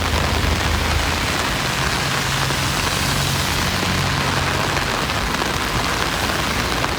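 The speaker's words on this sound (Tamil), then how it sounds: "இரவில் மழை பெய்தது" Steady rain falls at night in Thoothukudi after a cool evening wind, a dense, even hiss of drops that holds at the same level throughout with no voices.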